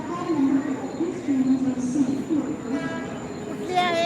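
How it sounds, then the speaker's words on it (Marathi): A Borivali AC local train pulls into a Mumbai station with a low, steady rumble and rising hum, while a nearby voice talks over it and a brief high tone sounds near the end. "बघा ट्रेन कशी येते आहे"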